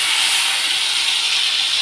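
Ground spice paste for egg curry hitting hot oil in a pan, giving a loud, steady, broadband hiss that holds evenly throughout with no talking.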